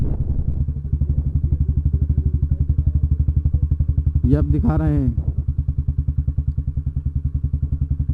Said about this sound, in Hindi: किले में कितनी देर से बाइक दौड़ा रहे हैं